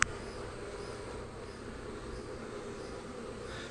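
A small honey bee swarm buzzes in a continuous, even drone, close and moderately loud, with no talking.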